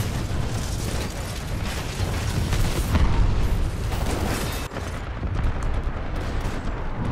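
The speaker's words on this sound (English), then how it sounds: "Is Titan exploding?" A Titan mech blows up during a Titanfall 2 match, a loud, dense burst of explosive rumble and crackling debris that fills the whole stretch, briefly dipping near the end before the roar continues.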